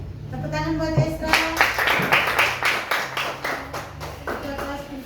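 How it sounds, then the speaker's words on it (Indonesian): A class claps together in a classroom, a steady burst of applause running throughout, with voices faintly underneath. "Tepuk tangan buat Esra."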